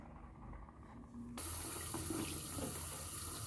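A tap suddenly opens to full flow, and water rushes steadily into a foamer bottle for homemade diluted dish soap. The noise is a close, loud, continuous splashing hiss after a quieter moment of handling.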